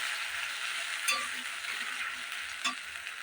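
Spice paste of cumin, ginger, green chilli and tomato sizzling in a pan: a steady, fairly quiet hiss of frying with two brief scraping stirs, no speech.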